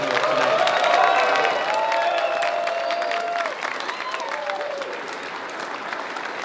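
A live audience at an event honoring James Hetfield's vehicle collection breaks into loud, sustained applause with scattered cheers and whistles. The clapping is dense and close and slowly eases off.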